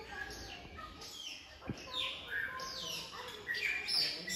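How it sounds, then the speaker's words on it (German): Small birds chirp and tweet repeatedly in a loud tropical zoo hall in Berlin, sharp calls overlapping against a busy, echoing background, with people faintly talking. "Da haben wir mal einen Vogel."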